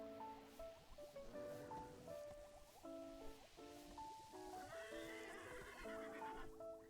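Repeated whinnying and neighing from a horse in a LEGO Natural History Museum game, a string of tonal neighs with wavering pitch over soft background rustle, quiet overall.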